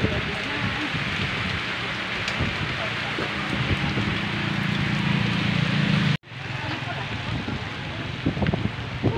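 Steady rain falls outdoors in a rural province, a constant close patter that cuts out abruptly midway and then resumes, with voices faintly present.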